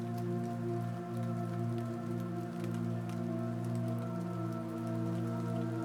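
Steady gentle rain falling on surfaces outside a house in a forest, a continuous soft patter that holds an even level throughout, with a low sustained hum underneath.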